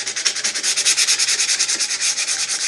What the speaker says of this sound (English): right now I'm just scuff sanding it